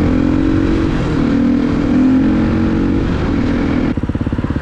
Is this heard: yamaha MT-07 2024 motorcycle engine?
yes